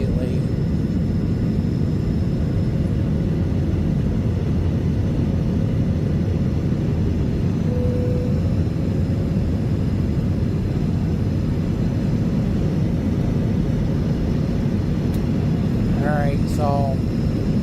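Steady broadband cabin roar of an American Airlines jet on a short flight, a constant loud rumble and hiss throughout, with a brief chime near the end.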